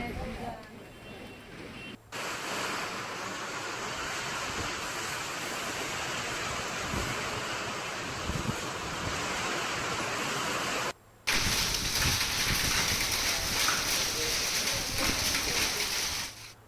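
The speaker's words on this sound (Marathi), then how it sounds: "अक्कलकोट तालुक्यामध्ये विजेच्या कडकडाटासह जोरदार पाऊस कोसळतोय" Heavy rain with hail pours down in Akkalkot, Solapur, with thunder in the area. It makes a loud, dense, continuous roar that fills the whole clip, with only a brief break partway through.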